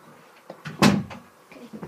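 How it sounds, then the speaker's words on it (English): A door in the Minecraft video game shuts with one sharp wooden knock near the middle, with softer small clicks and bumps around it, close and brief, and no talking. "Okay, I need to quickly close the door."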